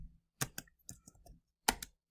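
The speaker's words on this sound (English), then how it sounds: "When I press spacebar, it spells it all out." Keys clack on a computer keyboard, with a few sharp close taps, a quieter scatter of lighter clicks, then another firm pair of presses, including the spacebar, in a quiet room.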